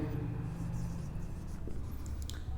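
Pen scratching on paper while working an accountancy problem, steady and continuous, mixed with a low hum and a speaking voice underneath.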